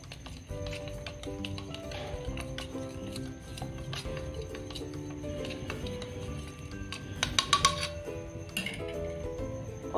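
A spoon stirs a cornflour-and-water mixture in a dish, giving steady light clinks and scrapes against the dish, with a brief cluster of brighter clinks near the end.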